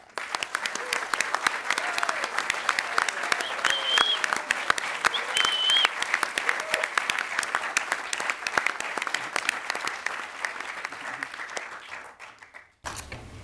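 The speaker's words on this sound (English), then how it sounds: "We can give them all a big round of applause." Sustained audience applause at a Gift of Life ceremony, dense steady clapping from a large crowd that fills the clip before cutting off abruptly near the end.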